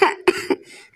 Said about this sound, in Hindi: मुझे बहुत खांसी आ रही है।